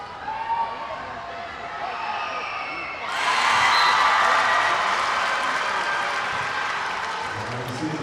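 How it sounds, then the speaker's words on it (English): Basketball crowd at a high school girls' game, Pelican Rapids vs Fergus Falls, bursting into loud cheering and applause after a free throw; the murmur swells abruptly partway through and stays sustained, with whoops. "I could just turn my mic off and you'd know if she made it or not by the reaction of the crowd"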